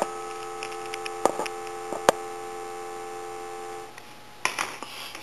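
A steady, droning dial tone hums from an A&E three-slot payphone handset, broken by a few sharp clicks and taps before it cuts out near the end, followed by brief rattling handling noise.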